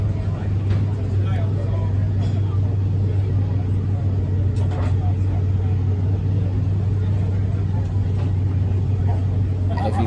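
A 1,500-horsepower top fuel nitro motorcycle engine rumbles loudly and continuously at close range, a deep steady roar with no break across ten seconds, with voices faintly underneath.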